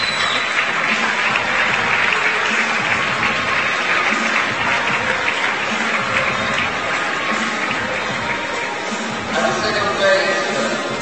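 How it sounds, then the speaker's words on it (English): Sustained loud applause from the crowd at a lead and bouldering climbing competition final as podium finishers are announced, dense steady clapping with scattered voices, continuing without break. "Great round of applause for the third place, Stasia Gayo from Serbia."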